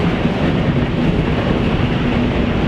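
A container train passes through Gemünden station on the Main, a loud, steady rumble and roar of rolling wagons that fills the whole stretch without a break.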